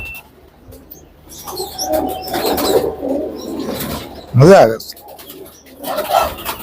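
Allahabadi pigeons coo in low rounded calls, one louder nearby coo standing out among softer ones, while someone talks over them at moments.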